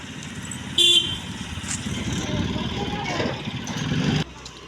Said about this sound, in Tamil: வண்டி வருது